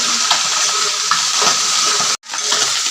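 Steady sizzling of potato and eggplant frying in a pan, a dense close hiss with small crackles and a brief dropout near the end.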